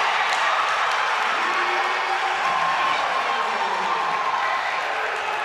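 A basketball crowd at a men's college game cheers and claps steadily after a step-back three-pointer, a loud, continuous wash of applause and voices with no single standout shout.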